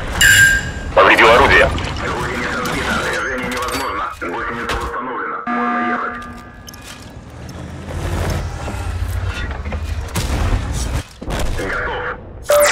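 A TNH T Vz.51 tank's cannon fires in a video game, giving several loud, sharp booms spread across a busy mix of game noise, with a voice talking in between.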